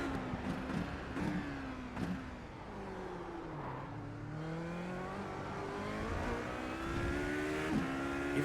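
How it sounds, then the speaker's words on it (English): Race car engine revving up a hill on a track, throttle modulated so the pitch rises and dips in steady waves, close and continuous for the whole stretch. "Hear me there coming up that hill, just modulating that throttle to making sure I keep that turning."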